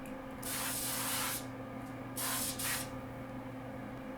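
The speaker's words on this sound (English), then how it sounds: "I'll spray the basket with my cooking spray." Cooking spray hisses from an aerosol can into an empty air fryer basket in two short bursts, the first about a second long and the second split into two quick puffs, close and fairly soft over a faint background hum.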